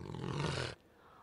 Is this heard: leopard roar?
yes